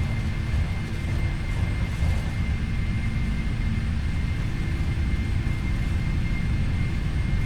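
Boeing 747 jet engines roar steadily and loudly during the takeoff roll in the PMDG 747 flight simulator, as a continuous broadband rumble with no talk.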